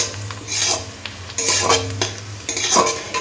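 Shredded cabbage and chopped chili are stir-fried for Chinese mixed fried rice, a metal spatula clanking and scraping against the pan in quick bursts over a light sizzle, close and fairly loud, with no talking.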